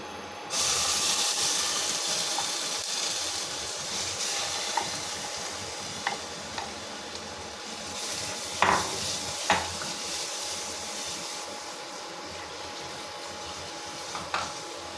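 Ground almond paste hits hot ghee in a pan with a loud sizzling hiss, then settles into steady frying while a spoon scrapes and clinks against the pot in scattered knocks, with no voices.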